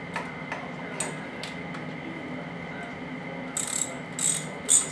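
A ratchet torque wrench clicks in short separated ticks while tightening bolts on a Yamaha R6 engine, followed by a few louder, sharper clicking bursts near the end.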